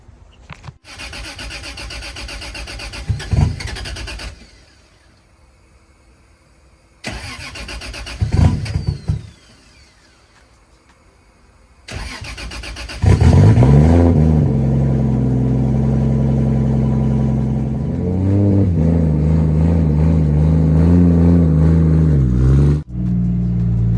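Car engines turn over and catch as cars are shuffled around, with short separate starts early on, then a loud sustained run with revving swells and idle that cuts off near the end.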